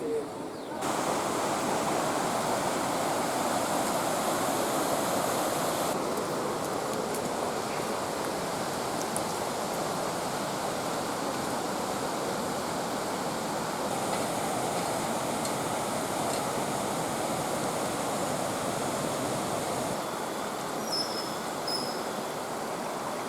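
A river in Colombia rushes steadily at a river crossing, a loud, broad, continuous roar of flowing water that holds constant throughout, with no voices.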